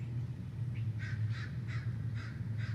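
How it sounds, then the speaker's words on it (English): A crow caws in an outdoor field recording, about five harsh, evenly spaced calls at moderate distance over a steady low background rumble. "And that is a crow."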